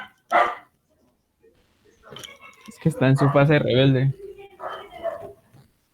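A pet dog barks sharply, then lets out a drawn-out whining whimper, with a few softer yips near the end, close and loud while people talk around it.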